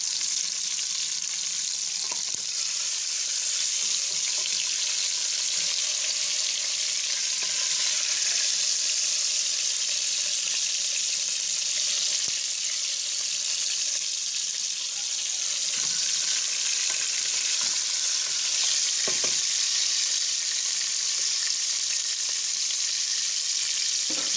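Ingredients for mderbel, an eggplant dish, fry in oil and ghee with salt in a pan, giving a constant, close hiss of sizzling broken by occasional scrapes and knocks of a stirring utensil, with no speech.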